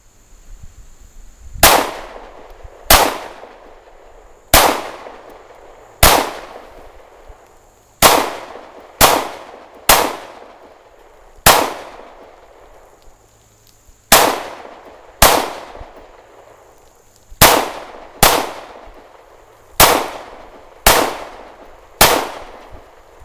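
A handgun fires about fifteen sharp, loud single shots at uneven intervals of one to two seconds, each ringing out briefly, with no talking in between.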